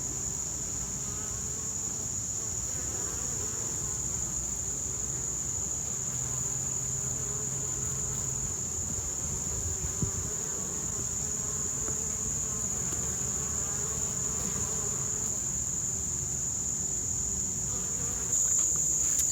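Bees carrying pollen back from a flower farm field buzz around garden flowers, a steady close insect drone with a high whine running throughout, with no voices.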